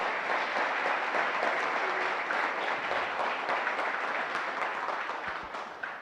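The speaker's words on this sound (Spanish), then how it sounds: "Vamos a aplaudir al Señor y su palabra." A church congregation applauds steadily and densely throughout, a sustained wash of many hands clapping that tapers slightly near the end.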